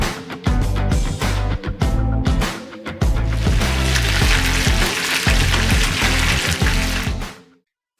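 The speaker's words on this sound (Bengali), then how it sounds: "মাংস বাদামি করে ভেজে নেই।" Marinated chicken pieces fry in a cooked-down spice paste for Old Dhaka-style morog polao, browning with a loud, steady sizzle and watery bubbling that cuts off abruptly at the end.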